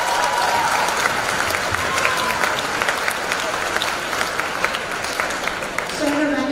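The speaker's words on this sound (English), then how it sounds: "we'll honor you with our applause" An audience applauds award recipients at a convocation gathering, a full, steady round of clapping with a few voices audible underneath.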